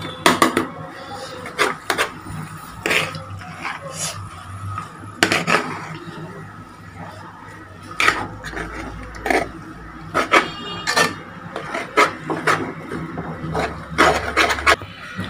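Poha, flattened rice, being stirred and mixed in a pan over a medium flame, giving repeated scraping and clinking of a utensil against the cookware in irregular bursts, fairly close with a low background hum.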